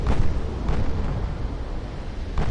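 Heavy 20-inch battleship guns firing in the naval game Ultimate Admiral Dreadnoughts, making a dense, rumbling barrage of deep booms with a strong burst at the start and another at the end, loud throughout.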